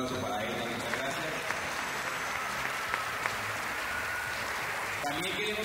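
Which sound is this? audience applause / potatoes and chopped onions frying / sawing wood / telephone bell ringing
audience applause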